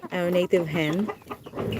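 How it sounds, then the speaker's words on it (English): A young Rhode Island Red chicken, hatched and raised after recovering from a disease, gives a few close, nasal clucks and short calls in quick succession. "It's a Rhode Island red breed of chicken."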